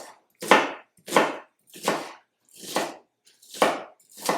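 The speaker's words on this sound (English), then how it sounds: "I'm going to go ahead and chop that into a nice fine chop" A knife finely chops an onion on a board in six evenly spaced, crisp strikes, each with a short rasp as the blade passes through. The chopping is close and clear with no other sound.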